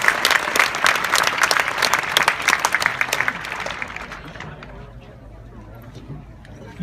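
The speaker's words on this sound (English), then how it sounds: "So how about a round of applause for the work that they've done to make this such a great event" A seated crowd at the Great Wall Marathon pre-race briefing in Tianjin, China gives a dense burst of loud applause that swells for about four seconds and then fades into faint murmurs.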